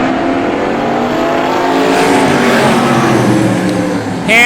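Vintage race cars speed around the oval at Star Speedway, several engines overlapping and sweeping in pitch, loud and close; one car's note rises sharply near the end.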